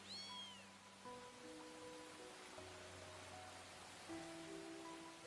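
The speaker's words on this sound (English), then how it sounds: "Come on, little kitty." A kitten meows in the DDLC Convergence video game, a few short high cries over soft rain-like hiss and sustained synth tones from the game's music, with no one talking.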